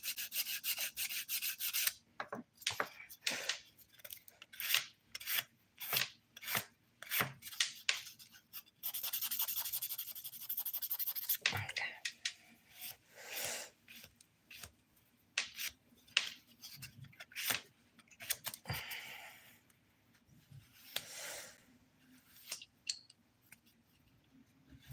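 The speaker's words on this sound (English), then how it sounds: "how filing made that nail go from U to O" Nail file rasping against a fingernail during a manicure, a series of quick close scratchy strokes in bursts with brief pauses, then a longer steady stretch of filing.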